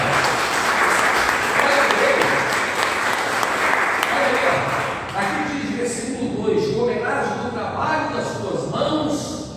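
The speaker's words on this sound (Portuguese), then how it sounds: "Você pode aplaudir ao Senhor bem forte?" A church congregation at a family worship service claps loudly together for several seconds, then the applause thins out into scattered claps and a few voices.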